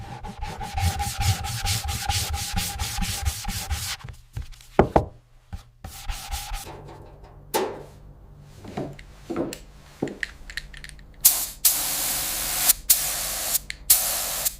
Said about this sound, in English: After the sealer coat dries, Silas uses ultrafine sandpaper to lightly scuff the entire surface in preparation for the next coat